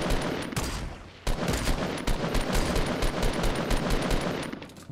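Sustained automatic assault rifle fire in Fortnite Battle Royale, a loud rapid stream of shots with a brief break after the first second.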